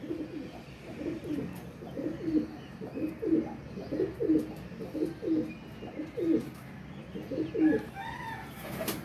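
Pigeons coo in a steady series of soft, low, rounded calls, close by and clearly audible, with faint background noise and no talk.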